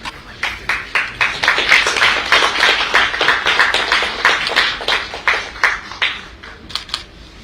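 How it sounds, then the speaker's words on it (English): Audience applause at a live public launch event in Goa presenting merchandise for the Global Opportunities Aggregator, a steady rattle of many hands clapping, fairly close and loud, thinning into a few scattered claps at the end. "Have a round of applause."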